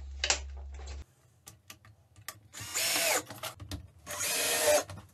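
Short bursts of a power screwdriver whirring as it drives screws into chipboard, separated by clicks and small handling noises, close by and fairly loud.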